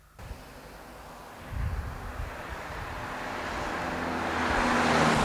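A SEAT Ibiza 1.9 turbo diesel with 90 horsepower drives along, its steady engine drone and road and wind roar swelling gradually louder as the car gathers speed, heard from close by with no voices.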